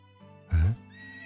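A horse in the medieval life-sim game Medieval Dynasty gives one loud, close whinny of about a quarter second, rising out of a quiet stable ambience with faint background tones before and after.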